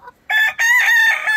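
A rooster crows loudly and close by on a backyard farm where several chicken breeds and ducks are kept, two strong bursts of crowing with a brief gap between them.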